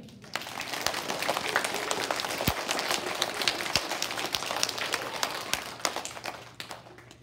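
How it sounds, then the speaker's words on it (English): An elementary school assembly audience claps for an award-winning first-grade student, a dense, steady patter of many hands lasting several seconds, with a few sharper claps standing out. "Let's clap for him anyway."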